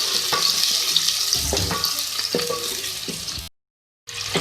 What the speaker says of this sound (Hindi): देख सकते हैं आप प्याज को फ्राई कर रही हूँ